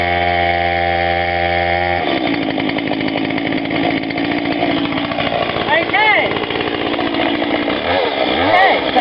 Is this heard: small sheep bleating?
no